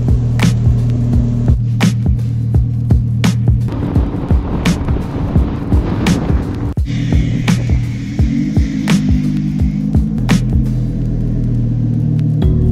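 Car driving along a road, recorded from a GoPro suction-mounted on the outside of the car, giving a steady loud engine and road rumble with repeated sharp clicks or bumps throughout.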